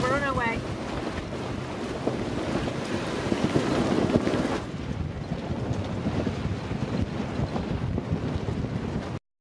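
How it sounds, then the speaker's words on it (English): Strong wind roars steadily across a sailboat under a large genoa at sea, about 20 knots, with constant buffeting rush and water noise and no speech. "Got about 20 knots of wind."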